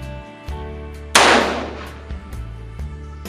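A single loud gunshot from a Remington 1858 black powder revolver, fired with a cylinder load left over a year in humidity, rings out once, close and sharp, then decays into a fading tail.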